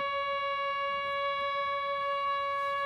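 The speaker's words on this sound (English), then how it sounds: "I'm using these two as oscillators, so they're in the audio range." A Serge dual universal slope generator run as an audio-range oscillator, producing a steady, bright buzzing tone with strong harmonics that holds unchanged throughout.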